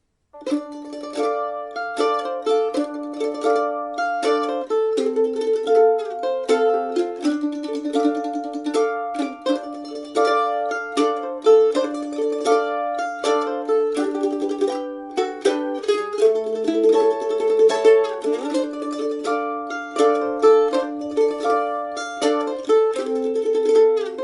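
A plucked mandolin plays a tremolo melody over strummed chords, bright and continuous, with no voices.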